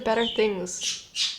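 A pet budgie gives a couple of sharp, bright squawks right after a short burst of nearby speech, the calls close and clear in a quiet room.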